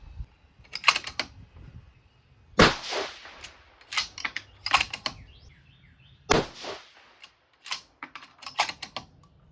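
A 6mm Dasher rifle loaded with a Winchester primer fires several sharp cracks in an irregular sequence, each followed by short echoes, with mechanical clicks between them and no talk.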